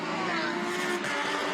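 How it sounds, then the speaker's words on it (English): Lamborghini Super Trofeo race car at Suzuka, engine running steadily with a strained, revving tone, moderately close with crowd or commentary noise faintly mixed beneath. "Indication from the crew chief that engine needed to be fired up,"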